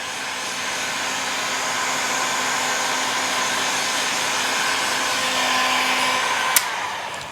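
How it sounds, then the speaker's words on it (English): A heat gun blows steadily, a close, even whooshing hum held for several seconds while burning the surface of a piece of timber, ending with a single sharp click. "Turn your heat gun off."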